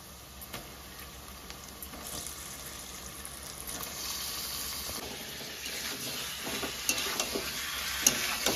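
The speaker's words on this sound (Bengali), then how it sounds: "চিকেনটাকে পেঁয়াজের সাথে সব ফোড়নের সাথে কিন্তু এখন ভালো করে আগে ভাজবো" Chicken pieces fry in a pan with onions and whole spices, giving a steady close sizzle and hiss with stirring scrapes that grow busier toward the end.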